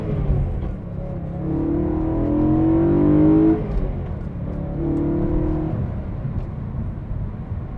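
Stock BMW E92 M3 V8 engine accelerating from inside the car, two rising pulls with a smooth climbing exhaust note, a gear change between them and a quieter cruise afterward.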